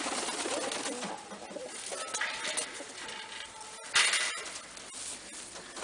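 Birmingham Roller pigeons cooing in a loft, soft repeated low coos mixed with rustling and fluttering, fairly close, with one louder burst of movement midway.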